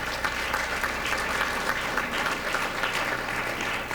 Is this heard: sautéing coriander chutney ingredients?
no